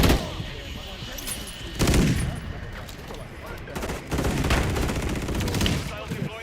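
Dense, sustained gunfire from a Modern Warfare 3 match, with rapid bursts and heavy volleys swelling near the two- and four-second marks, close and loud throughout under an occasional voice.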